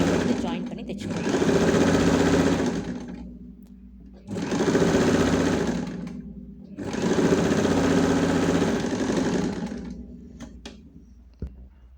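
A sewing machine stitching the sleeves of an oversized shirt being remade into a circular skirt, running in three close, steady bursts of rapid mechanical whirring with short pauses between them.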